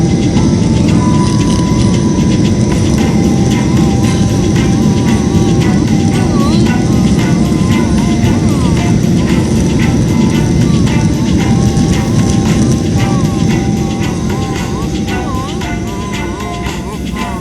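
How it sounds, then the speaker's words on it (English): An airplane lands on a runway, heard from inside the cabin as a loud, continuous roar of engines and rolling rumble that eases slightly toward the end; no clear speech. "We are starting to land. We have touchdown."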